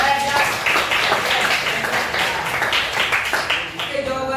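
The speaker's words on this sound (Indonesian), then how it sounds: "kasih tepuk tangan dulu buat" Students in a classroom applaud together in a steady, moderately loud patter of many hands that fades slightly near the end, with voices murmuring underneath.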